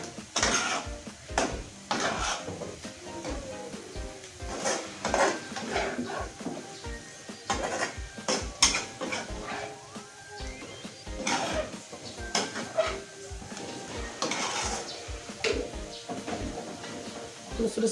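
Tempe stirred with spices in a pan, irregular scraping and clinking of a utensil against metal in repeated strokes, fairly close, with background noise and no clear sizzle.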